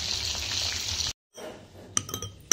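Food frying in a pan on a home stove, a dense steady sizzle that cuts out briefly, then resumes more quietly with a few sharp clinks near the end.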